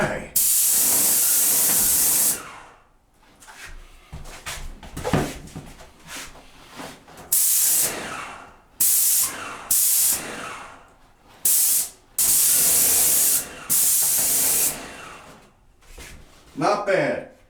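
An airless paint sprayer hisses in repeated sharp bursts of varying length, with someone talking in the gaps between sprays.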